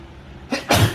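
A single sharp sneeze bursts out close by, a short intake followed by a loud explosive burst, ending abruptly.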